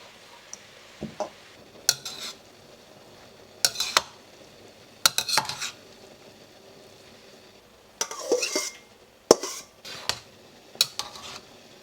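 Shredded white radish is stir-fried in a wok for radish cake, with repeated bursts of spatula scraping and clinking against the metal and a faint sizzle between them. No one speaks.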